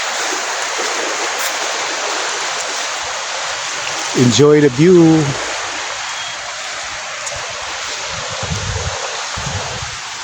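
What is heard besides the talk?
sea waves at white sand beach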